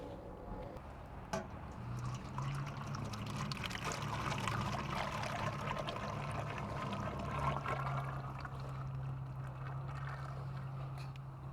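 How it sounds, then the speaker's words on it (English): Water pouring steadily out of a turkey fryer pot, a continuous splashing gush lasting several seconds, close and fairly loud, with a low hum running underneath. "So at this time, I'm going to take the water out."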